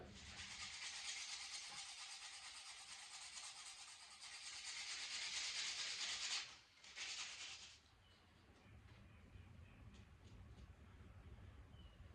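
Steady hand sanding on a wooden handle of a forged integral Damascus kitchen knife, a continuous close rasping rub that pauses briefly, then fades to quieter scraping.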